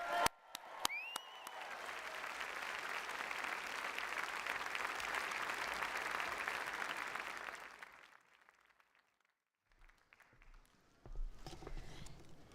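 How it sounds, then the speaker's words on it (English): A large audience at a Salford Business School graduation ceremony claps loudly and continuously for several seconds, the dense applause fading into near silence before a few scattered sounds return. "Let's have a proper cheer again."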